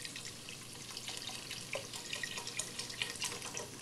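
Stock is poured into a cooking pot in a home kitchen, a soft, continuous liquid splash and trickle lasting a few seconds, fairly quiet and with no talk over it.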